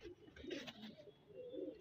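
Soft, low pigeon cooing, a couple of murmuring phrases at moderate distance with a faint hiss in the background.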